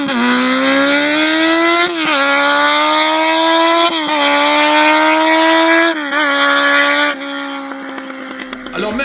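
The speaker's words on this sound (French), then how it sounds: "le son de l'échappement te fera croire tout autre chose" A Suzuki 600 Bandit motorcycle engine revs hard several times in a row. Each pull climbs in pitch before it drops back, and the exhaust note is loud and close.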